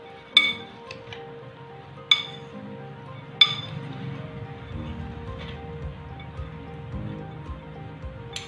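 Sprouts being mixed in a bowl give three sharp clinks of a spoon against the bowl early on, then softer scraping and faint rustling, close and fairly quiet, with no talk.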